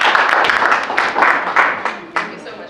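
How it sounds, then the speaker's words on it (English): Audience applause welcoming a speaker at a pitching masterclass during a national small-business festival, a dense burst of many hands clapping close by that surges in waves and starts fading after about two seconds. "Ladies and gentlemen, a warm round of applause."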